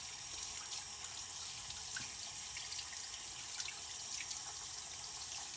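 Tap water runs steadily into a kitchen sink as pancetta is rinsed of its salt cure, a continuous soft hiss at moderate distance with no speech.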